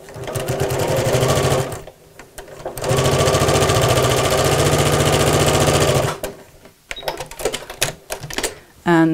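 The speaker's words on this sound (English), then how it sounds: "I'm just going to squish the seam to one side as I sew" Sewing machine stitching a seam on a fabric twisted tote bag, running in two long steady bursts of rapid mechanical whirring with a short pause between, then stopping and restarting with brief shorter runs.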